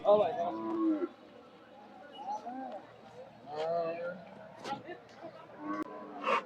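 Cattle low repeatedly at a busy cow market in Bangladesh, several moos rising over a steady crowd murmur with people chatting nearby throughout.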